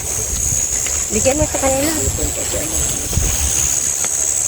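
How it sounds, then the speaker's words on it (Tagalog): Strong wind blows outdoors, a constant loud rushing and buffeting across the microphone, with someone speaking briefly beneath it. "grabe ang lakas ng hangin dito guys"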